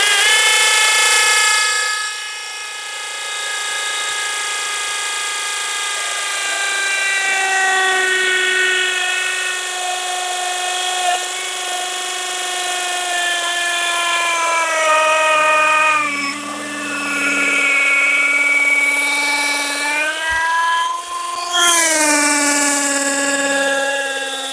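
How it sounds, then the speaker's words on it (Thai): Power drill boring into bamboo for a blanket-drying pole, a loud steady whine that rises and dips in pitch as the bit bites, with brief slowdowns near the end. "เพราะฉะนั้นเราต้องเจาะ"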